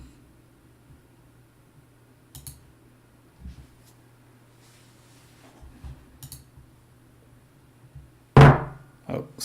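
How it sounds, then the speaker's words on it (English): Someone bangs on a table, several soft thuds scattered through a quiet room, then one sharp, loud knock near the end followed by a lighter one. "it was just me banging in the table actually"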